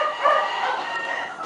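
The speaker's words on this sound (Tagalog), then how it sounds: "may isa pang manok" A chicken clucks and calls at close range on a farm, a steady run of bird sounds over about a second and a half, with no one talking over it.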